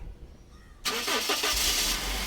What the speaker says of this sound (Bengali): দেখেন আমরা গাড়িটা স্টার্ট করলাম স্মুথ সাউন্ড